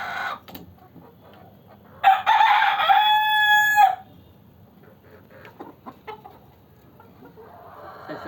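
Fayoumi chickens on a farm: a rooster gives one loud, clear crow lasting about two seconds in the middle, framed by softer scattered clucks and rustling before and after.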